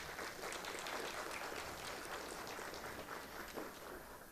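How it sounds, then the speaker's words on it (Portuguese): Audience applause at a solemn university anniversary session honoring UFAM in Manaus, a steady, fairly faint wash of clapping that continues evenly throughout without talk. "eu peço uma salva de palmas aos dois presentes"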